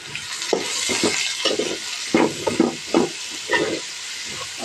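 Carrots frying uncovered in a pan for chicken vegetable fried rice make a steady sizzling hiss, broken by repeated scraping stirs that come in short bursts, close and fairly loud, with no speech.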